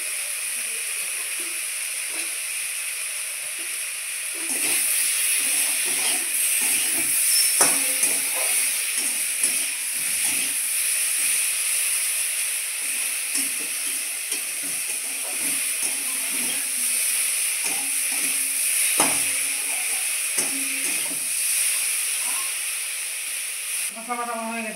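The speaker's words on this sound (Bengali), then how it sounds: "মশলা বাটা হয়ে গেছে ভাজা" Spice paste fries in a pan with a constant hissing sizzle and scattered soft crackles and scrapes that go on at a steady level the whole time, with faint voices in the background now and then.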